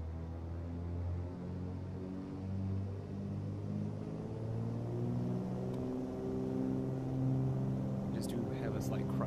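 A light aircraft engine in Microsoft Flight Simulator, set to full mixture and throttled up for takeoff, gives a steady droning rumble that slowly rises in pitch and loudness, with a voice talking over it.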